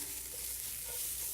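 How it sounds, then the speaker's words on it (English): Vegetables stir-frying in a hot pan with tofu steak, giving a steady, continuous sizzle with a faint stirring texture throughout, close and fairly quiet, with no talking. "stir fry, you want to always move the pan around"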